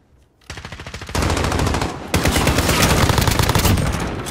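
M4 rifle fire in a Modern Warfare video game: loud, rapid automatic bursts that grow denser over a few seconds, near and continuous with brief gaps between strings of shots.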